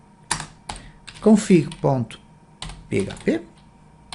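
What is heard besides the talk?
typing code on a computer keyboard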